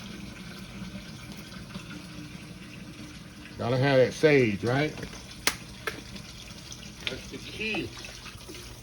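Tap water runs into a bowl of cornbread stuffing for turkey legs in a home kitchen, a short splashing pour partly under a person talking.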